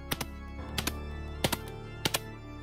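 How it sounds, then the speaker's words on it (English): A nail gun fires 1-inch nails into glued wood pieces. Four crisp double-snap shots ring out, evenly spaced and fairly close, over a low steady hum, with no talking. "I'll take the nail gun with 1-inch nails in there"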